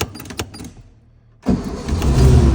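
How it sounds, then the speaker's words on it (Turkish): A 1963 Volkswagen Beetle engine cranks briefly and catches, settling into a loud, steady running rumble after a short pause, close to the microphone with no talk. "Çeyrek marşta aldı."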